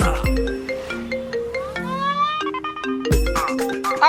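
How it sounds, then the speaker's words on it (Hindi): A melodic phone ringtone plays loudly, a tune of repeating tones with short pauses, starting again after a brief break. "अरे किसका फोन आ गया ये?"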